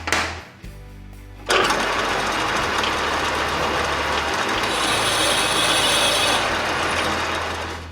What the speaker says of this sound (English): I'm going to come in with a regular drill bit and drill this out to 5/30 seconds or 156 thousandths